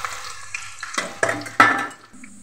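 Onions browning in oil with whole spices such as bay leaves for a chicken masala stew, stirred with a utensil that scrapes and clinks against the pot in several bursts over a steady close sizzle.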